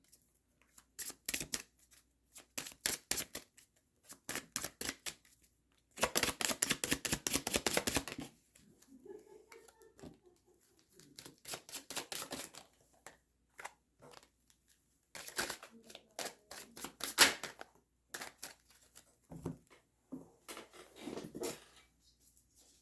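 Tarot cards being shuffled in repeated bursts of rapid riffling and flicking, close and crisp, with quieter pauses of handling between them.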